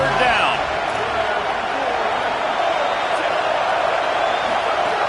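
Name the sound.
big football stadium crowd noise on third down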